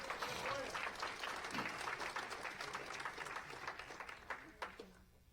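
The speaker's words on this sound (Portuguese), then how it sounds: "Dê uma salva de palmas a Jesus" Church congregation applause during a sermon, with dense clapping that fades slowly over several seconds, ending abruptly.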